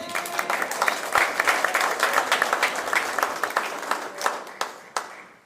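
An audience claps at a criminal justice award ceremony. The applause is moderately loud and full at first, with some voices mixed in, then thins to scattered individual claps before fading out.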